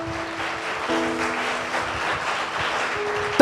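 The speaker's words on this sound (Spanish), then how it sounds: "Denle un fuerte aplauso al Señor" Congregational applause in a church service, a steady, soft wash of many hands clapping for a few seconds, with faint sustained tones behind it.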